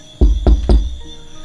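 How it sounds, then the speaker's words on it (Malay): Three firm, evenly spaced knocks land on a door, loud and close with a deep thud to each rap, followed by a short fading ring. "Lepas tu bunyi macam orang ketuk pintu."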